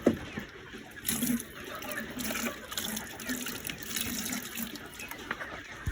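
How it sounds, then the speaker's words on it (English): Fresh water runs and splashes steadily into a chicken drinker, a continuous close gush with a brief louder burst near the start. "So fresh water can now come in for these birds to actually drink."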